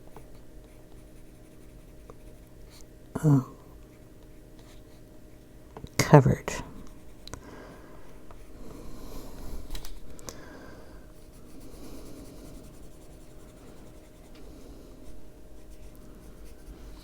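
A dark green coloured pencil scratches across paper in long, soft strokes close by, a faint continuous rasping with a couple of louder knocks, while someone talks quietly at times.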